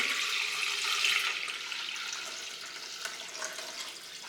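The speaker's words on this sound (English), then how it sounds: "I'm going to start off by adding some water to this big Dutch oven." Water pours steadily into a big Dutch oven in a kitchen, a continuous bright rushing splash that is loudest at first and eases slightly toward the end, close by with no talking.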